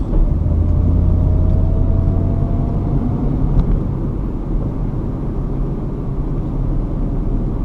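A deep Ford Mustang GT V8 engine rumbles loudly and steadily, a throaty low drone that eases slightly toward the end.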